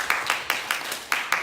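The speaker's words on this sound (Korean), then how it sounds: "박수." A small gathering at an evening church retreat service claps in a quick, regular unison rhythm, about seven sharp beats, moderately faint and without talk.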